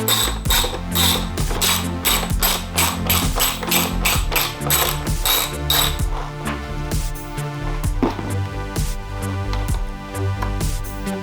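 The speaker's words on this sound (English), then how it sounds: "We're gonna be taking off these two screws that are right under here" A ratchet wrench backs out two screws under the rear fender of a 2025 BMW S1000RR motorcycle, giving a quick, steady run of sharp close clicks that then slows into a few scattered ticks and metallic taps.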